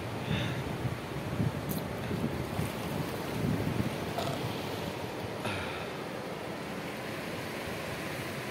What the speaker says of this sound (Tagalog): Nandito nga kami ngayon sa tabi ng dagat dito sa Labrador, Pangasinan